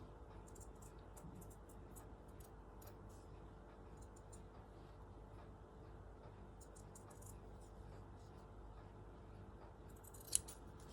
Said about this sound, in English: So if I cut bigger, then I can trim.